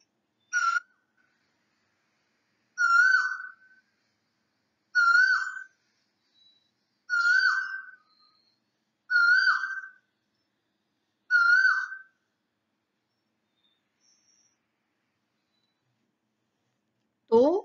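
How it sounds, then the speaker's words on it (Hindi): Koel bird calling in spring, six clear rising whistled notes repeated every couple of seconds with silence between, then a final upward call at the end, fairly distant and alone. "तो कोयलिया मीठे मीठे स्वर में गा रही है।"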